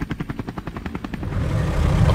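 A helicopter flies close by with a rapid, rhythmic blade chop that beats loudly at first, then blurs into a rising, rougher engine roar as it moves.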